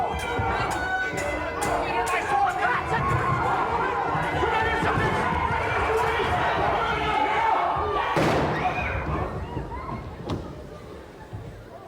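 A rowdy stage crowd in a Romeo and Juliet production keeps up a dense, continuous din of chatter, shouts, slams and thuds, with a sharp bang near the end before the noise thins out. A voice speaks under the commotion.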